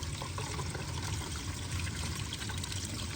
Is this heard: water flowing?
yes